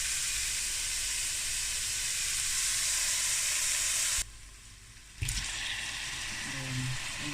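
Pork belly and chicken sizzle and fry in a pan with onion and garlic, a steady loud hiss that cuts out briefly near the end before resuming with stirring.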